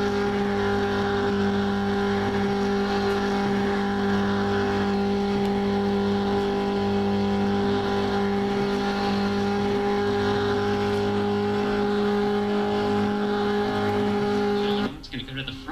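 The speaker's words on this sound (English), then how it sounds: "And now you're on board Jeffrey Fenguy's car." On-board engine of a Dr. Pepper Xfinity Series stock car in an online sim racing league race, a loud, steady, droning engine tone held at high revs that drops off near the end.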